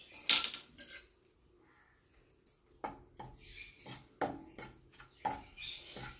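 Gram flour roasting in a pan on the stove, with a spoon scraping and clinking against the metal in irregular bursts, a few sharper knocks standing out over quiet gaps.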